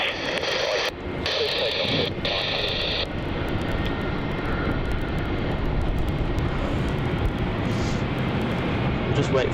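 Jetstar flight 900 takes off from runway 27 at Melbourne Airport, a loud, sustained jet engine roar that fills the whole span, with radio chatter heard over it early on.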